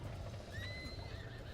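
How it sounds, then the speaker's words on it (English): A horse in the video game Breath of the Wild gives a short whinny over soft rhythmic hoofbeats, faint and brief against steady background sound. "Breath of the Wild horses are terrible."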